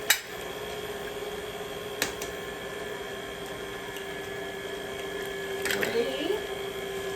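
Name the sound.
electric mixer beating batter as eggs are added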